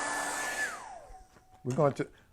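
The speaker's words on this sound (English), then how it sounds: "I'm holding the hair dryer as far away from the paper as I can." A hair dryer blows with a steady whoosh onto paint on paper, then its motor winds down and cuts off, followed by a brief voice.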